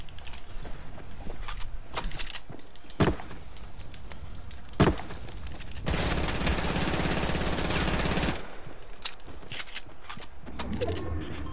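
Submachine gun fire in a video game, bursts of rapid shots with a few sharp single cracks and a dense sustained volley in the middle, loud and close.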